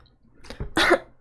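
A woman reading a story aloud gives a short, close cough, two quick rough bursts in a quiet room.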